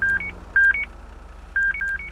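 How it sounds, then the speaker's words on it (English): A radar lock-on beep from the Prowler Radar plugin in the LSPDFR police game: short electronic tone pairs repeat, two pairs close together, a pause, then two more, over a faint steady hum. "anytime that I lock a vehicle in, you're going to hear a beep, and you're going to hear it just like this"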